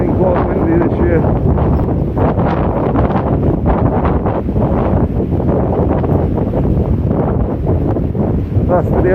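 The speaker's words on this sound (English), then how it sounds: "It's been quite windy this year." Wind blows hard across a Benidorm beach, its heavy, unbroken buffeting roaring into the microphone with shifting gusts, and faint talk may be buried underneath.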